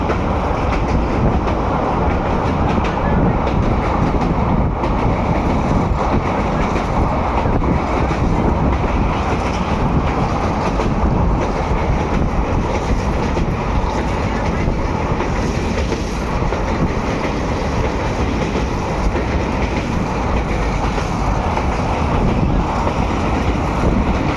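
A passenger train runs between Kurnool and Mahbubnagar near the Tungabhadra river, heard from on board as a loud, steady rumble and rattle that continues without a break, with wind buffeting and no voices.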